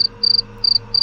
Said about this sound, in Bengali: একটা না ঝিঝি পোকার ডাক ভেসে আসছে